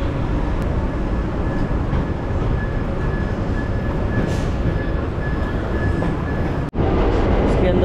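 A loud, continuous rumble of a New York subway train rolling past beneath 7th Avenue, with a steady roar and a faint high whine.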